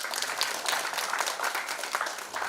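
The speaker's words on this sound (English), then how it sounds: "A round of applause for esteemed speakers." Audience applause for speakers at a literature festival session, continuous scattered clapping from a moderate crowd, fairly soft and even throughout.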